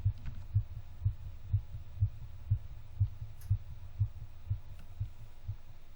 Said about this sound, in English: I think I hear a heartbeat.